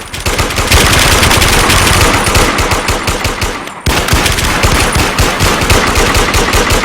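Rapid automatic gunfire in the video game Warmode, a loud, dense stream of shots fired in quick succession, broken by a split-second pause before the burst resumes.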